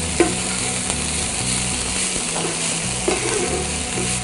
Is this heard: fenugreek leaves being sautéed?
yes